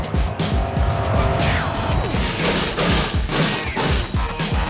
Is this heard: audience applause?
no